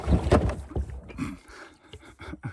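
A kayak landing on a lakeshore in Sweden, with a short scrape and knock of the hull followed by a few soft bumps and splashes, faint and close in a quiet outdoor setting.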